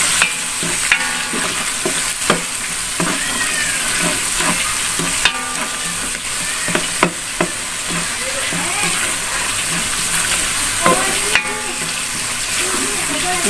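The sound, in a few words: shrimp paste (terasi) frying and stirred in pan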